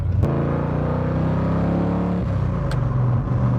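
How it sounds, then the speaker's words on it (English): A 1972 De Tomaso Pantera with its 351 V8 roars steadily up close, the deep engine note swelling and holding through a rev, loud and alone with no talk. "that's the roar of the 351 right there"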